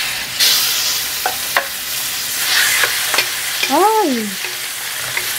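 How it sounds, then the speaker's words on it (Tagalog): Chicken fries in a very hot pan with a loud, steady sizzle while a utensil scrapes and stirs it in several distinct strokes; a brief voiced exclamation cuts in near the end. "So, ilagay na natin yung ating chicken."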